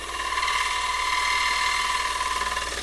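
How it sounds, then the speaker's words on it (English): Gouge cuts wood turned on a lathe, using the side wing of the tool, giving a steady loud whirring scrape with a constant motor drone and no pauses. "twisting into the lathe, and we'll start cutting a lot more about here"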